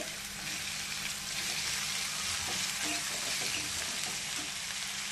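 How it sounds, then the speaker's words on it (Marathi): Onion and tomato sautéing in a pan for a spiced brinjal and potato dry curry, giving a steady broadband sizzle with faint stirring scrapes, close and continuous, no voices. "2 मिनिटं कांदा परतून घ्यायचे आणि त्याच्यामध्ये आपल्याला लगेच टोमॅटो टाकून घ्यायचे"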